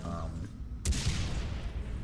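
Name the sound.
explosive sniper rifle shot in the video game Far Cry 3 Blood Dragon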